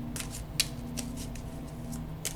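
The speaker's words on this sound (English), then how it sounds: "I'm going to go ahead and shuffle the cards," Tarot cards riffle and slap in a few quick bursts, a soft shuffling pattern over a low steady hum.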